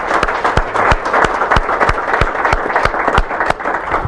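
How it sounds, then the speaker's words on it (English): An audience gives a round of applause at a civic announcement for a Great Lakes offshore powerboat Grand Prix, steady dense clapping with some sharper individual claps, close and continuous for several seconds without talk. "So round of applause for our DPW engineers."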